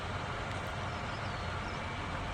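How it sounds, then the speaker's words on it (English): A tractor engine in a farming video game hums at a steady revving drone while a wagon fills with oats, continuous and even with no talk over it. "I do love that it revs up the tractor while it's filling."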